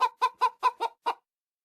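A chicken clucks six times in a quick, clear, close series of sharp clucks, then falls silent.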